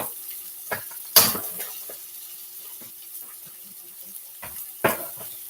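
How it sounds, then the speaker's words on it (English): Steak meat and peppers frying in a pan, a faint steady sizzle under a few sharp clinks and stirring bursts of the utensil against the pan, close by and without voices. "Y'all hear how it's sizzling?"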